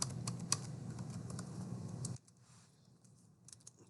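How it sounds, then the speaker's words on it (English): Rapid typing on a computer keyboard, a fast run of crisp close key clicks with occasional louder strokes, stopping abruptly midway and leaving faint room tone with a couple of stray taps near the end. "So here I will just directly type Microsoft Word, Microsoft PowerPoint"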